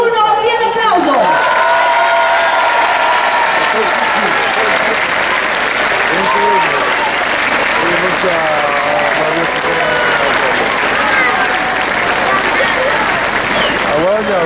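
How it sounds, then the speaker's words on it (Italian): A crowd applauds and cheers loudly during a public vote for the San Michele carnival float, with sustained clapping, whistles and shouting voices mixed in over the full length. "3, 2, 1, via l'applauso"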